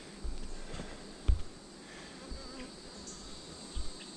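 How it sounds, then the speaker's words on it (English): Honeybees pack a crowded bottom hive box during queen grafting, a faint steady buzz with a few soft knocks and thumps of frames and woodenware nearby. "they're just as packed as that top box was, just overflowing with bees"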